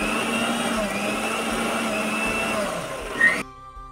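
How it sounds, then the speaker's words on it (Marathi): A mixer grinder grinding ginger for a paste, a loud, steady whirring drone that runs close for about three seconds before cutting off abruptly. "हे अद्रक आहे, याला आपण मिक्सर मध्ये छान ग्राइंड करून घेऊ."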